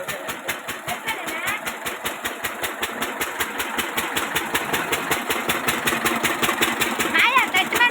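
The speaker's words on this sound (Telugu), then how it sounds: "ఇగోండి ఆల్రెడీ స్టార్ట్ అయింది ఇంజిన్ అయితే." An engine drives a sugarcane crushing machine outdoors, thumping in a fast, steady rhythm that stays loud and close throughout, with faint voices in the background.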